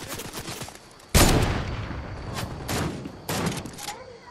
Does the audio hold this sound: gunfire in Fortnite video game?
yes